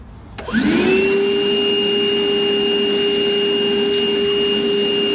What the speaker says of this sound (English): grab our vacuum and again clean up our mess.